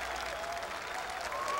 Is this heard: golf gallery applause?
yes